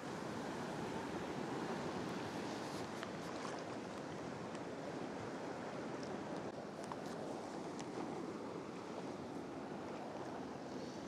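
Atlantic Ocean waves off an Irish island, a steady broad wash of surf with wind noise buffeting the microphone throughout, no voices.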